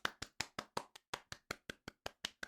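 A slow, light golf clap: about fourteen soft, evenly spaced hand claps, fairly close and quiet, with no voices.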